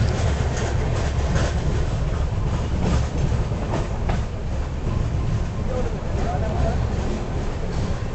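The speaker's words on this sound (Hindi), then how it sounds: "वरंगल के प्लेटफॉर्म नंबर 2 पे हमारी आंध्र प्रदेश एक्सप्रेस का अराइवल हुआ है" Andhra Pradesh Express pulling into platform 2 at Warangal station, a loud continuous rumble of wheels and carriages with rhythmic clatter throughout, steady and close, with voices faintly mixed in.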